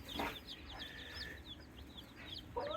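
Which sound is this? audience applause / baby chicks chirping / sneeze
baby chicks chirping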